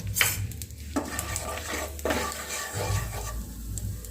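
Cloves, cinnamon and shahi cumin frying in a pan, a soft sizzle under repeated scraping and clinking as a spatula stirs against the metal, close and steady.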